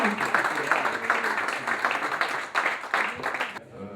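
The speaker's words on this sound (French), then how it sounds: "Je vous demande de recevoir sous vos applaudissements incroyables Martial et Nicolas Mutt" A live audience at a book event applauds to welcome two authors, a dense steady wash of clapping with voices mixed in, moderately distant, ending abruptly.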